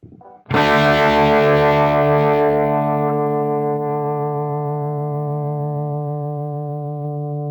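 An electric guitar chord rings through the MX5 modulation effect on a Quad Cortex, striking loudly after a brief quiet moment and then sustaining with a rich harmonic tail that slowly fades.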